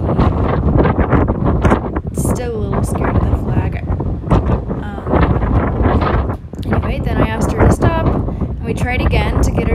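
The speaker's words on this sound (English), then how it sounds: "It's super, super windy out there today." Heavy wind buffets the microphone in loud, rough gusts, while someone speaks over the blustery noise.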